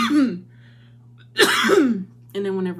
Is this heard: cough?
yes